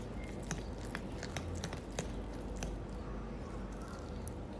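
Banana cake batter with a pinch of salt being stirred in a bowl, giving soft, wet, squishy sounds that continue steadily and close up with no talking.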